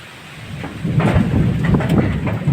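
Heavy rain pours down as thunder rumbles close by, a loud, low, rolling roar that swells after the first second and stays dense to the end.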